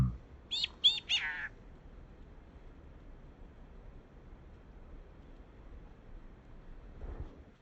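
A chickadee giving a short burst of high, clear calls near the start, a few quick notes in close succession, followed by quiet outdoor background.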